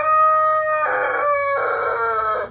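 A loud, close rooster crow in two drawn-out harmonic bursts, with faint hen clucking underneath.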